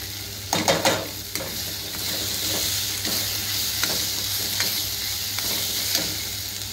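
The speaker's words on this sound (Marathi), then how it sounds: "आता मसाले झाले परतून" Spices sauté in a pan for Maharashtrian prawn masala. A constant close sizzle is punctuated by a burst of spoon scrapes near the start and softer stirring clicks later. No one talks.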